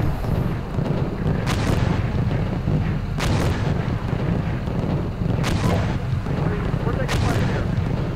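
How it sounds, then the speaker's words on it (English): Artillery shells landing in the Steel Beasts Pro PE tank simulator, a German plain battlefield in 1985, with repeated booming impacts spaced a few seconds apart over a steady loud rumble of battle and engine noise. "they're trying to hit us with Arty here"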